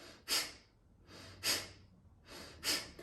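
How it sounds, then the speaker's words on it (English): Forceful breathing, with the belly squeezed below the navel to press air out: three sharp, loud exhales about a second apart, each followed by a short, quiet inhale, close and alone. "you squeeze below your belly button to press the air out as you do that"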